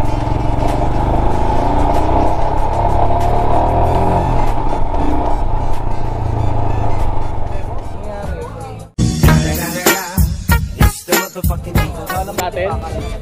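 A Royal Enfield motorcycle engine drones steadily on a test ride, then revs in short sharp bursts with wind noise, recorded up close while riding.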